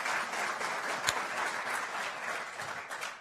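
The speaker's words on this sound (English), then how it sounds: "can we give a round of applause to my co-chair, Elena?" An audience applauds for a co-chair at a White House hunger and healthy communities event, steady crowd clapping that holds evenly for about three seconds at moderate loudness with no talk over it.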